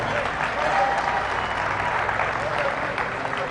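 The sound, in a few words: audience applause at youth fair livestock show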